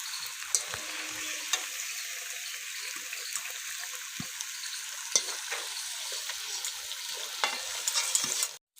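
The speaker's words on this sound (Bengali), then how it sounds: "আলুগুলো সুন্দর লাল লাল করে ভেজে নিয়েছি" Potatoes frying in oil in a wok for chicken dum biryani, a steady close sizzle with faint stirring scrapes and occasional clinks, no talking.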